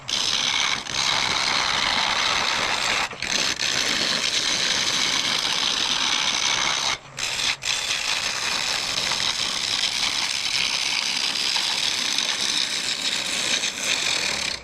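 Juniper wood spinning on a wood lathe, a steady loud whir with a gritty scraping texture, continuous for the whole stretch with only a couple of brief dips and no talk.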